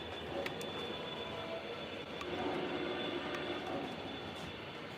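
A steady rumbling hum of an MTH model train running on track, with faint squeals and clicks, continuous and fairly quiet.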